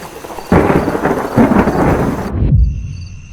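Rolling thunder rumbles loudly through steady heavy rain in a village night-time storm, swelling in two or three deep surges before the downpour cuts off abruptly near the end, leaving only faint high tones.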